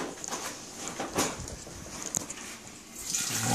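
A drink is poured into a glass and foams up a little, giving a steady liquid splashing and trickling close by for a few seconds with no talking.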